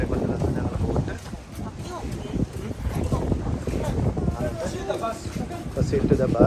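A boat ride in the Maldives brings heavy wind buffeting the microphone over a low engine and water rumble, with voices talking through it.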